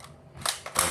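A water gel blaster HK416 converted to an AEG is cocked and fired: a soft mechanical click, then two sharp snapping bursts close by, quiet between shots.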